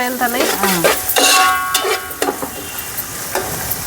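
Cloves heating in a hot pan for village-style chicken curry give a close, crackling sizzle with stirring and utensil clinks, while a voice speaks briefly over the cooking.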